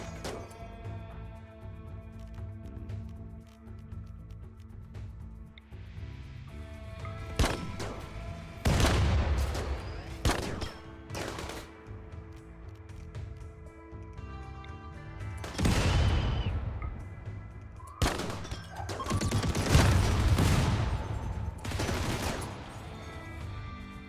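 Soldiers opening fire in Rimworld, scattered bursts of gunfire and heavy booms in irregular clusters, loud and close, separated by quieter gaps with faint background tones.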